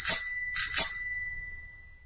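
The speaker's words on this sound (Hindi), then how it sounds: "तभी बाहर से साइकिल की घंटी सुनाई दी" Two quick rings of a bicycle bell from outside, used as a sound effect in a horror story. Each bright metallic ring decays over about a second, with no voices.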